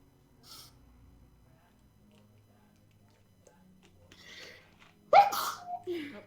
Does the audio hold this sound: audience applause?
no